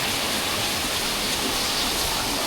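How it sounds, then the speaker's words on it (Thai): Sarika Waterfall in Nakhon Nayok province, running in June, gives a steady, dense rush of falling water that fills the whole stretch at an even level, with no voices or other sounds. "น้ำตกสาริกานครนายกเดือนนี้เดือนที่ 6 นะ"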